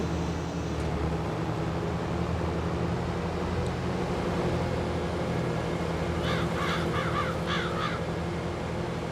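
Crows caw in the Farming Simulator 22 game, a quick run of about five caws late in the clip over a steady, low machinery drone.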